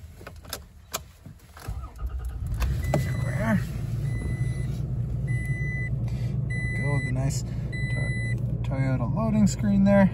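A 2022 Toyota Tacoma SR5 starting up, with a brief crank and the engine settling into a steady idle, accompanied by chimes and beeps from the cabin and occasional talking.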